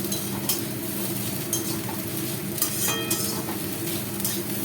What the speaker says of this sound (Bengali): এটাকে ভালো করে নাড়বো।